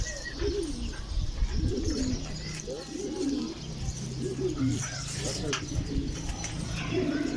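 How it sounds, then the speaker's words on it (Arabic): Pigeons cooing in repeated low, soft phrases roughly every second, close by, with a few faint higher bird chirps and a steady background hum. "هاي الحمام اجت تشرب فينا، وهذا طير كمان"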